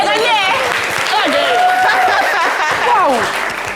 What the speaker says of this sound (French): applaudissez pour moi s'il vous plaît